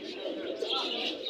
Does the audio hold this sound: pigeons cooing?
yes